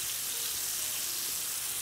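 Fish pan frying in oil in a skillet, a steady dense sizzle that holds unbroken and fairly loud from start to finish, with no voices.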